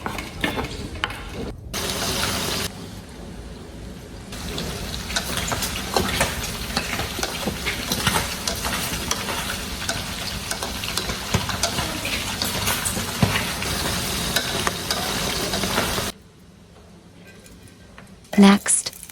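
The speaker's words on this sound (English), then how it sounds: "we stir-fry the pork until golden brown and juicy, then add the green onions" Pork being stir-fried in a pan with green onions, a steady loud sizzle with stirring clatter running for most of the time before dropping away near the end.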